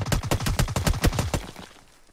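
Rapid gunfire from a DBS shotgun and other weapons in the battle royale game PUBG: a dense, close burst of a dozen or so sharp shots in quick succession, thinning out and fading after about a second and a half.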